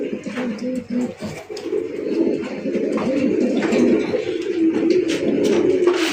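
Several red pigeons, including red Raj Golla and sky-blue Raj fancy pigeons kept for sale, cooing in a continuous overlapping throaty murmur, close and loud, with faint background voices and bird chatter.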